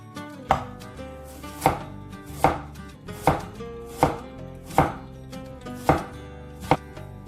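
A knife chopping pickled mustard greens on a cutting board, about eight crisp, evenly spaced strikes in a steady rhythm, close and clear with no talking.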